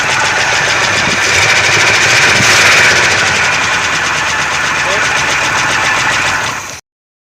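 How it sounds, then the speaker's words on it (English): A C3 Corvette engine cranks and runs steadily, fuel pump on, a loud continuous mid-pitched roar with a brief surge near the middle before cutting off abruptly; speech is tagged but not clearly audible over the engine. "Okay, start it up. You gotta run it off the gas tank down."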